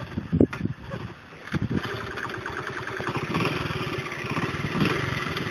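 Engine of a 1972 Honda CT70 motorcycle runs close by, a steady putter that builds after a few opening knocks and holds a continuous idle-like drone.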